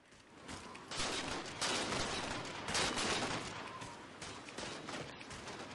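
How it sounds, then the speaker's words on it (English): Dense, continuous gunfire from the Halo 4 video game during a team sniper match, with overlapping shots and bursts sustained at high volume throughout, no talking. "There's bullets flying everywhere."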